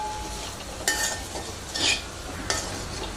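Potato fry being sautéed and stirred in an iron kadai, a steady frying sizzle broken by three louder scraping stirs of the spoon against the pan, close up with no talk.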